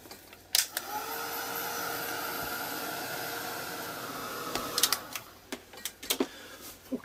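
A hair dryer blows steadily on a mixed media art journal page coated with brushed-on medium, a continuous close whirring hiss broken near the end by a few short clicks and knocks.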